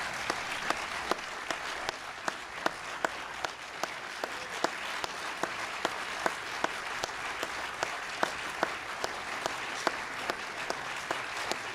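Applause follows a speech at a confirmation event, a sustained crowd clapping with one distinct, sharp, evenly spaced clap cutting through the steady wash of hands.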